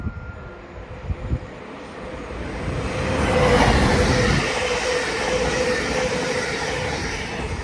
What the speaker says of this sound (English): about to pass will be a LUMO service going from London King's Cross to Edinburgh